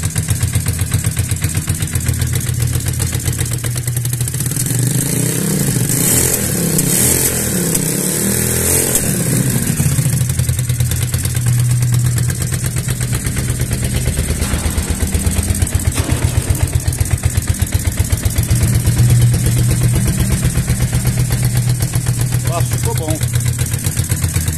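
Yamaha Virago 535 motorcycle engine fitted with a homemade glass-wool muffler, running steadily at idle with a low, even throb throughout and a brief rise in revs early on, with people talking over it.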